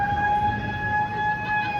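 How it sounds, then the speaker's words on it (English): A siren sounded by animal rights protesters on a Liverpool street, a loud sustained electronic wail with steady harmonic tones, held continuously without pause and heard on its own. "They've got some sort of siren, they've had it on for a while"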